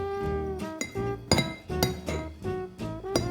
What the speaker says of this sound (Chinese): 我们就要将所有的调味料倒入罗望子的水中，搅拌均匀